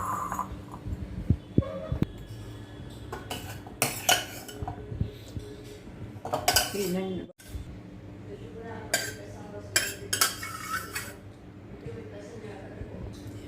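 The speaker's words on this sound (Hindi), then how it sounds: "अभी मैं इनको इसका प्लेटिंग करती हूँ, डिश आउट करती हूँ।" Cooked lobia curry being served from a pressure cooker, with dishes, pots and cutlery clinking and clattering in close, irregular bursts while someone talks.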